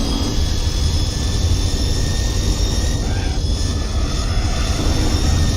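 Car engine in Gran Turismo 4 held at high revs near a 6,000 rpm limit, a steady, loud, continuous drone with a whining tonal edge and no clear breaks across the stretch.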